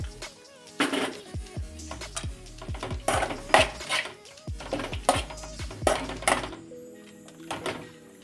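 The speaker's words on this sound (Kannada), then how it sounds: "ಇವಾಗ ನೋಡಿ ಕಡಲೆ ಬೀಜ ಸೇರಿಸ್ತಾ ಇದ್ದೀನಿ" Peanuts dropping into a pan for tomato chitranna give a run of distinct clattering knocks and metallic clinks, close by and fairly loud, in an irregular rhythm with no talk over them.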